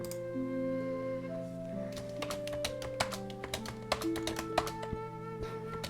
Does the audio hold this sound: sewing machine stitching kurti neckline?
no